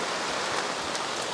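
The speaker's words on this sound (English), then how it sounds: "this rain right now is light" Light rain patters steadily on plastic sheeting clipped down over a Centurion Bronco's interior, a dense, even hiss with no voices.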